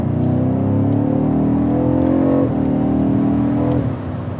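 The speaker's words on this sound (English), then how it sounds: "If I put it into Sport Plus, sporty shifting, and I put my foot down," A BMW M550i xDrive sedan in Sport Plus accelerates hard. A loud, close engine note climbs steadily, drops briefly at a quick upshift, then climbs again before another shift near the end.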